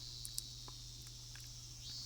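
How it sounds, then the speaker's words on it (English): Cicadas trill in a visual novel scene, a thin steady high drone running unbroken and faint throughout, with a low hum beneath and a few soft ticks. "The cries of the cicadas surrounded me"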